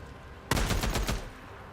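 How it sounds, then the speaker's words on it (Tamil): Gunfire hits an enemy in the PlayStation game Days Gone, a loud rapid burst of about five shots fired in quick succession after a brief quiet moment. "நான் அவ்வளோ சுடுறேன், சாவறானான்னு பாருங்களேன்."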